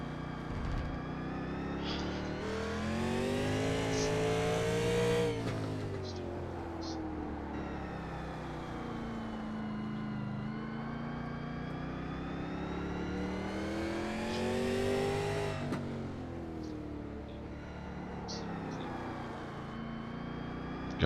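Race cars in a Race of Champions round rev and accelerate, engines rising and falling in pitch through gear changes, steady and moderately loud, with commentary talk over the top.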